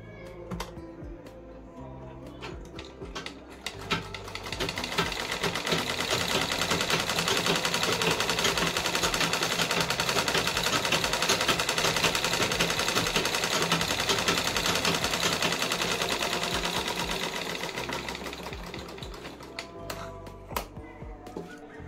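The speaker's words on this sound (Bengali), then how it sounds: "এবারে আরেকটি আমি যেটা সেলাই করলাম ওখানে একটা চাপ সেলাই দিয়ে দিচ্ছি" Sewing machine running a reinforcing stitch on pajama fabric, a dense rapid mechanical clatter that swells to a steady loud run for about twelve seconds and then tapers off, with quieter handling taps before and after.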